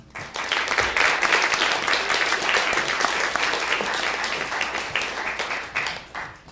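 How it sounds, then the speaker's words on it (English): Sustained, dense applause from a concert audience at a black tie student show, steady and fairly loud for several seconds before tapering off. "it would be great if we could have a round of applause for all our members"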